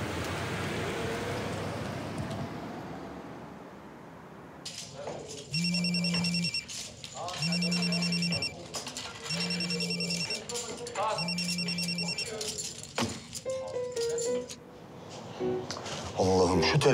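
A telephone rings in four evenly spaced double-burst rings, loud and close, with people talking before and after in a Turkish comedy scene set at a casino.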